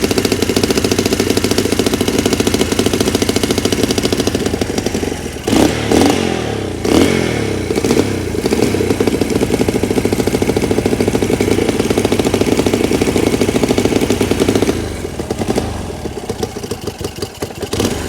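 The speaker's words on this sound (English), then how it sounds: "See if I can turn the idle up." A Honda CL175 motorcycle engine, just brought back to life after its first start, idles loudly and close up, with a steady mid-pitched putter that stumbles and surges briefly partway through before settling again.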